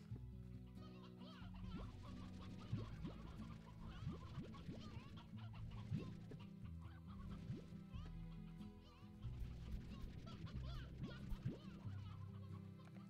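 A hen in the game Slime Rancher clucks in short repeated calls, layered over continuous busy game music and ambient effects, with no talking.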